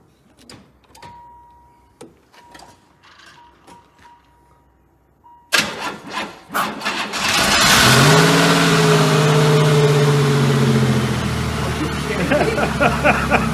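After quiet clicks and rustling, an old barn car's engine, unstarted for three years, cranks and catches, then revs loudly and rises in pitch before settling into a steady rumble.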